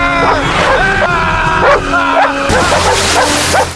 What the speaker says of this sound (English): His dog, terrified, barked frantically and ran off